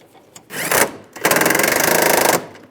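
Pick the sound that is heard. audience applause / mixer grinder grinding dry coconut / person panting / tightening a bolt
tightening a bolt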